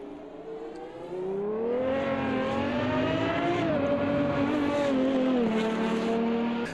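Lister V12 front-engine race car from the early 1990s in Automobilista 2, its engine droning steadily and rising and falling in pitch as it revs through gears, loud and continuous with no talk.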